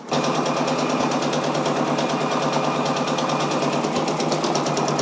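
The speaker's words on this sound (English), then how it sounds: "I'm gonna let you guys check out this Michael Jackson patch stitching out." A Brother Persona embroidery machine stitches out a Michael Jackson patch, a steady loud rapid mechanical whir with a fast repeating needle rhythm running continuously and alone, without talk.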